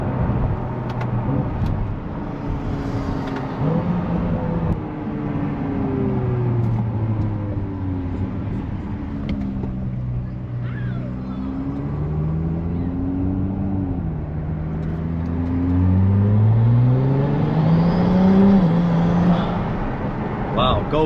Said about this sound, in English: It has a fairly subdued exhaust until you really start winding it out,